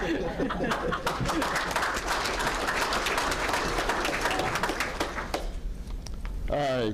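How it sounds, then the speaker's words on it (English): A banquet audience at an Ozarks homecoming awards dinner breaks into sustained applause, dense clapping filling the room for several seconds, mixed with chuckles and scattered laughter, before a voice briefly returns at the end. "I will hold for applause"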